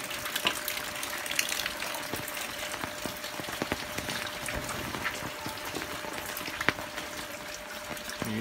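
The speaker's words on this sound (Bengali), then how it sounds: "বৃষ্টির মাঝে গলি পথ দিয়ে বাসায় যাচ্ছি।" Rain falls on a narrow lane in Dinajpur with water pooling on the road, a continuous close patter and crackle of drops with scattered sharper splashes, and nobody speaking.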